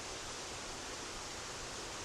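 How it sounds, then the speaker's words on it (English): Broad, steady roar of a waterfall in Karura Forest, heard from above as an unbroken rushing wash of falling water with no other sounds. "looking down at the waterfall."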